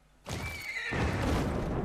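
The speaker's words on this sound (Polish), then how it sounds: "Koń też skacze." A horse in the video game Ghost of Tsushima gives a clear, rising-then-falling whinny, followed by a dense patter of hooves on the ground; close and fairly loud, with no talk.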